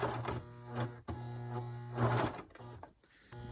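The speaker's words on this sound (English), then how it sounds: "my serger is not as happy about sewing through denim." A serger sewing machine labours through thick denim, its motor buzzing in short strained runs that stop and start, close up and fairly quiet.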